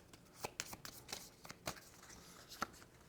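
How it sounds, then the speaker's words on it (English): Double-sided playing cards being shuffled by hand for a tabletop game, a run of quick, crisp riffling snaps and slaps at close range, fairly quiet, with no talking. "So making sure that this side is face up, giving those a shuffle."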